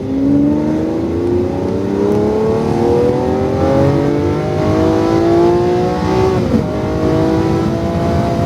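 A car on a cone-marked driving course accelerates hard, its engine note climbing steadily in pitch and staying loud and close throughout, with a brief dip near the end before it pulls again.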